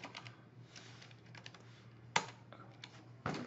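Keys clatter on a computer keyboard as an Excel function is typed, a quick irregular run of soft close taps with a couple of sharper, louder strokes.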